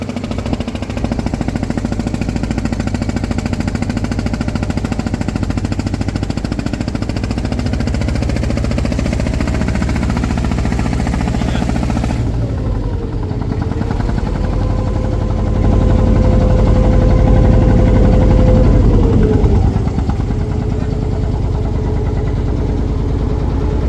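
A fishing trawler's diesel engine drones steadily and loud while underway, its low rumble continuous with a shifting whine partway through and no talk.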